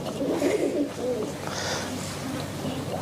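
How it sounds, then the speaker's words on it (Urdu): A red-eyed pigeon gives soft, low, throaty coos at close range, with a faint murmur of background noise around it. "یہ بڑا لاجواب کبوتر ہے"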